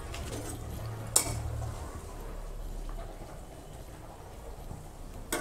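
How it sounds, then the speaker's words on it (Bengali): A lid comes off a pot of cauliflower and soybean curry with a single sharp metallic clink, followed by a soft simmering hiss and faint kitchen clatter. "ঢাকাটা খুলছি, দেখি এখন কেমন হলো।"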